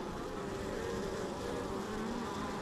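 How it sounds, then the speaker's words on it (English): A dense, steady buzz of many honeybees packed at the top of a hive during an inspection, loud and close throughout with no pauses and no talking. "there is a lot of bees up here, which is not going to be great if we're trying to get them out of it. And they're loud."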